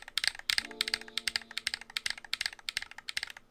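Switches on a GMMK Pro mechanical keyboard clack in a quick, steady run of crisp, close key presses, with a brief faint hum underneath early on.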